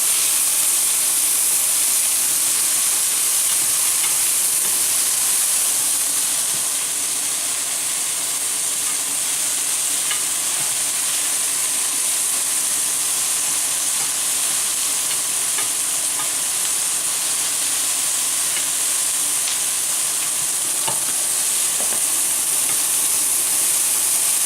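Food for Salisbury steak sautéing in a pan, a loud, even, hissing sizzle that runs unbroken for the whole stretch, close up and alone, with only occasional faint ticks of stirring.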